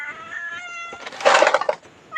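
A cat at a temple in Lampang, Thailand, gives several close, loud meows, one drawn out and strained, with a brief quieter mew at the end and no talk over it.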